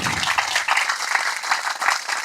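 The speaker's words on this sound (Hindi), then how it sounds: "जोरदार तालियां एक बार डॉक्टर सुजन के लिए" Audience applause for Dr. Susan at a talk, a short, moderately loud burst of clapping lasting a couple of seconds.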